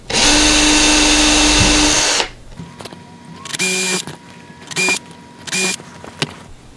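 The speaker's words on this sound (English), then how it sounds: "Now I'm using a brad point drill" A brad point drill bit bores holes in a wooden project case, a loud continuous whine for about two seconds followed by several short, separate bursts of drilling.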